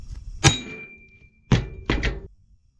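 A scrap-metal cannon's projectile strikes a wooden box in three heavy, close thunks, one alone and then two in quick succession, each with a short woody rattle and ringing tail.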